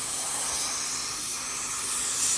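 A spray gun hisses steadily and closely as it applies sealant to the hull of a classic fast powerboat under restoration, a continuous airy spray with no pauses and no talk.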